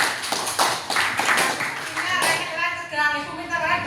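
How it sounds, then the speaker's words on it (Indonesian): A classroom of children claps for a classmate, a burst of scattered hand claps close by, with children's voices rising over it toward the end. "Beri tepuk tangan untuk Rio."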